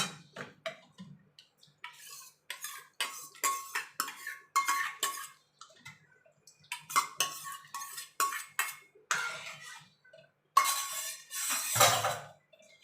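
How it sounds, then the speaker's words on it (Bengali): A spoon stirs curd into milk in a metal bowl while making homemade sour curd, giving repeated clinks and scrapes in irregular bursts separated by short pauses, close and fairly crisp, with one louder rattling scrape near the end. "এবার আমি এই দই দইটাকে আমি দুধের মধ্যে মিশিয়ে দেব"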